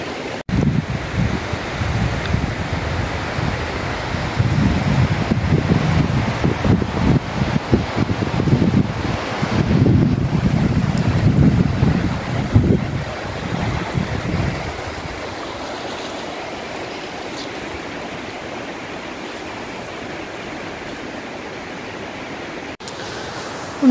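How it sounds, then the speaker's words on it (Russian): Strong wind roaring through tall forest trees in surging gusts that rise and fall, then eases to a calmer, quieter rush for the last stretch. "ветер такой очень сильный"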